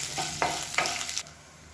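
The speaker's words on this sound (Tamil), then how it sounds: "இதையும் சேர்த்து நல்லா வதக்கிக்கலாம்" Ginger and garlic sautéing in a pan for a tomato-free chutney, a soft sizzle with a few sharp stirring scrapes of a spoon against the pan, close and brief, then settling into a quiet hiss.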